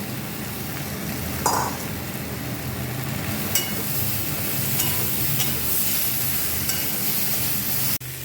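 Chopped vegetables and tomato fry in a pan with a steady, dense hiss close to the microphone. A few sharp clinks of stirring break through, and a louder knock comes near the end.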